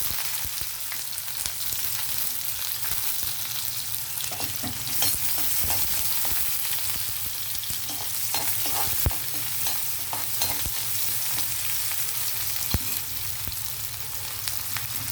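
Onions fry in a pan with cumin, mustard seeds, dried red chillies and curry leaves, giving a steady, moderately loud sizzle that runs unbroken throughout, dotted with light stirring scrapes and a couple of faint taps.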